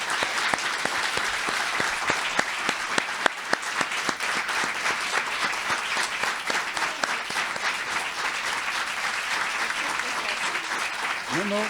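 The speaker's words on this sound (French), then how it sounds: "on va servir de nos mains, mais pas pour voter, mais pour applaudir si vous êtes d'accord avec la motion" An audience at a community ambassador awards ceremony applauds to approve a tribute motion, a long stretch of steady clapping with sharp individual claps standing out, and a voice surfacing briefly near the end.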